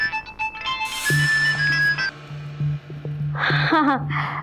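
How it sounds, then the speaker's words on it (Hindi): A phone ringtone plays a repeating electronic melody with steady tones, moderately loud, followed by brief chirpy sounds near the end. "जब देखो फोन ही आते रहते"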